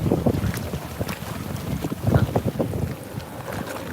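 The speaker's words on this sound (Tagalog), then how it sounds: "grabe ang lakas ng hangin" Strong wind roars and buffets the microphone in steady gusts, a loud, rough rush of air with no voices.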